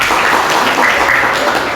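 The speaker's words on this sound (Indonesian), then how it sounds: "Tepuk tangan, tepuk tangan." Classroom applause from a group of students, a steady dense patter of clapping lasting a couple of seconds at moderate level.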